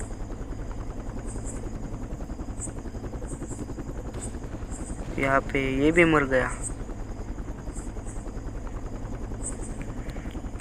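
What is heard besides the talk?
helicopter flying overhead in a video game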